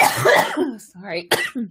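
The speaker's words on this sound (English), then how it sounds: "Coughing. It's terrible." A person coughs several times in quick, rough bursts up close, then briefly speaks an apology.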